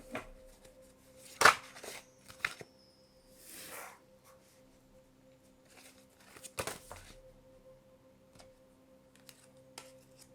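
A tarot deck is shuffled in a few brief, soft bursts of card riffling separated by quiet gaps, over a faint steady hum, with no talking.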